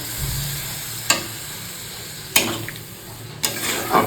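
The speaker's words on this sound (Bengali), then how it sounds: "মশলাটা ভালো মতো কষা হয়ে গেছে আর এর মধ্যে এই যে পালং শাকটা ঢেলে দিলাম" Spinach tossed into well-cooked spiced masala, frying with a soft steady sizzle while a spoon stirs it, giving three or four sharp scraping clinks against the pan at spaced intervals.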